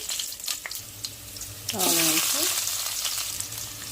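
A sudden burst of sizzling as cumin, mustard seeds, urad dal and chana dal hit hot oil, loud and close, crackling on after a few quiet kitchen clicks.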